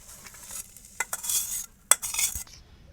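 Tomato and onion stir-fried in a pan: a few close, sharp spatula scrapes and clatters over a faint low sizzle, lasting only a few seconds with no voices.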